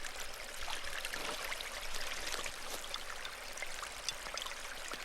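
Flowing water of a small creek, steady and continuous, with close trickling and splashing detail throughout and no talking.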